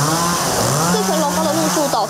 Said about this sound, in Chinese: 公务局人员获报到场，用电锯切开树枝，这才恢复交通。